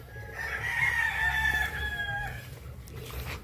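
A rooster on a farm crows one long drawn-out call that dominates the clip, with nearby hens faintly clucking and low barnyard rumble beneath.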